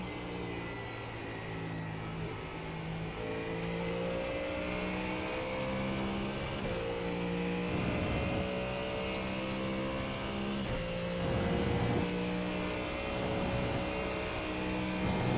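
A Mustang GT3 race car in the iRacing simulator warms its tyres on track, its engine droning steadily, shifting pitch as revs rise and fall through gear changes, and lasting throughout without any talk.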